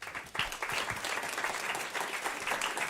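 An audience at a regenerative food systems talk applauds the speaker Jay: dense, sustained clapping, loud and fairly close, holding steady throughout with no speech over it.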